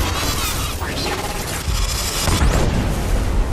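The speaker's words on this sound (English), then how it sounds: "This dropship is about to explode." A dropship blows up at an airsoft battle suit and UGV drone competition at Ballahack, giving a loud, rumbling blast with crashing debris and a heavy, sustained low roar throughout.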